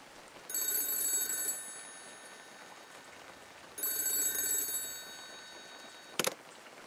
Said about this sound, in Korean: 다시 전화기가 울렸습니다.